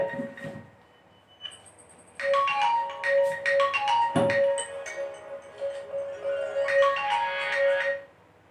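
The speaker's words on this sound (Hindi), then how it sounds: "एक मिनट फोन आ गया।" A phone ringtone plays a bright, repeating electronic melody loudly and continuously for several seconds after a brief quiet start.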